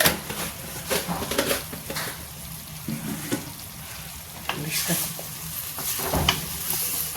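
Potatoes frying in a pan as turmeric goes in, a steady close sizzle with scattered stirring scrapes and clinks of a utensil against the pan throughout.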